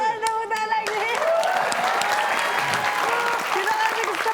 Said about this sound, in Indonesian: Oke, kita ada tepuk lagi.